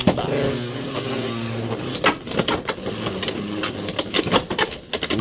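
Beyblade X spinning tops battling in a stadium: a steady high whir is broken by sharp rattling clashes and clicks as the tops collide, loud and close with no talking.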